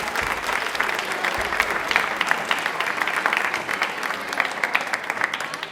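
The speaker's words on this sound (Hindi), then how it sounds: "ताली एक बार जोरदार बजा दीजिए।" Audience applause in a television quiz show studio, a steady crowd of hands clapping briskly for several seconds, full and close, with no talk over it.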